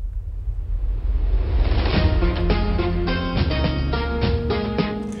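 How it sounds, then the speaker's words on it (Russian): An acoustic roll-hits drum sample plays alone: a rumbling swell of rolled drums building into a series of sharp, loud hits with ringing tonal tails, continuing steadily for several seconds. "это называется как-то Roll Hits"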